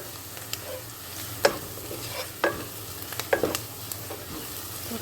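Ground spice powders (coriander, turmeric, chilli) fry in a pan while being stirred, giving a low steady sizzle with a few sharp scrapes of the spoon against the pan. No one talks.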